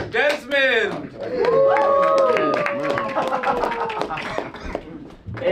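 A comedy club audience at a New York comedy competition in Bushwick claps and cheers loudly, with whoops and shouted voices riding over a steady wash of applause that fades slightly toward the end.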